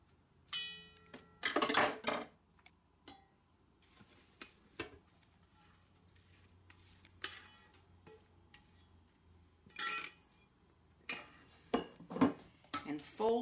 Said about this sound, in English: Add your egg whites.